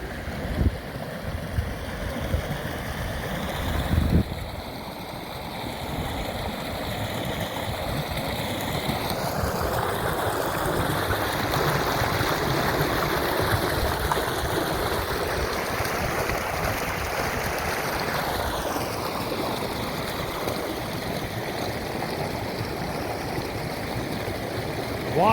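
Rushing river rapids at a scenic Ontario spot in fall, a steady broad wash of flowing water that holds close and loud throughout, with a brief thump near the start.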